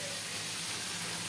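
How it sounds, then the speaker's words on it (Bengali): Roti frying in a pan on a home stove during a busy morning of cooking, a steady soft sizzle with a faint low hum that stays even throughout the short stretch. "এদিকে রুটি ভাজছি"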